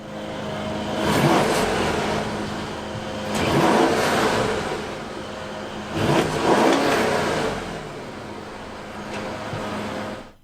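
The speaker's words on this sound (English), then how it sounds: "Just an absolutely wonderful sounding engine." A 2016 Mercedes-Benz S550 engine revs four times in a row, each blip swelling loudly and settling back to a smooth idle between pulls, heard close up.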